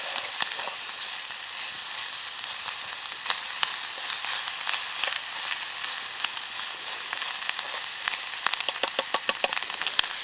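Sausage sizzles and spits steadily in a pan over a wood-fired G2 Firebox camp stove, a continuous bright crackle with a few sharper pops near the end.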